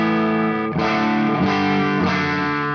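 An electric guitar with vintage V60 pickups plays through a Jen Cry Baby Super wah into a York Audio 4x12 cabinet, ringing out heavily distorted, sweeping chords restruck roughly every two-thirds of a second, loud and close.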